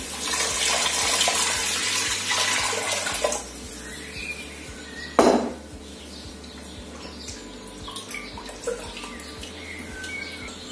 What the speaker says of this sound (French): Je mets dans l'équivalent d'un litre d'eau.